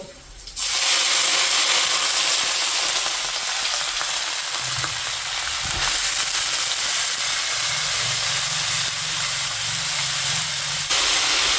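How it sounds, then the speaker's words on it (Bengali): Washed potatoes dropped into hot oil, with chilli already in the pan, for a Bengali fried-potato dish. The sizzling and frying hiss is loud and steady and continues for the whole stretch, with no talk over it. "আলু পরিষ্কার করে ধুয়ে নিয়েছি, এবার তেলে দিয়ে দেব।"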